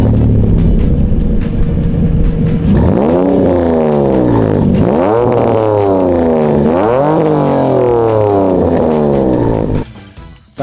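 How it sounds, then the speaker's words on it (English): A BMW E46 330Ci fitted with a full M3 exhaust system revs hard several times in a row, its loud, close engine note rising and falling in sweeping waves with no talking. "the full exhaust system with the M3 exit that sounds like this"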